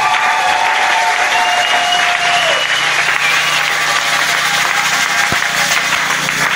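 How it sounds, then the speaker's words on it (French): A church congregation in Kinshasa bursts into loud, sustained applause and cheering that fills the room throughout, with a voice briefly heard over the crowd. "Est-ce qu'on peut acclamer très fort la gloire de Dieu?"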